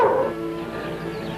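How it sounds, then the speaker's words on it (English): A single hunting dog bark rings out at the start, then trails off into a lingering echo with a faint hum beneath. "The other man had a hunting dog."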